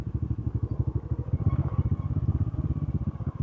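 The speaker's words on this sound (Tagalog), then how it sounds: "trail lang po ang dinadaanan ng aming trail motorsiklo" Trail motorcycle descending a steep foot trail, its engine loud and close with a steady, rapid pulsing throb and faint clatter throughout, no talk.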